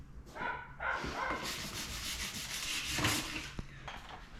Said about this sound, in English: So I've just gone over it with a 400 grit sandpaper just to pick up any of the rougher surfaces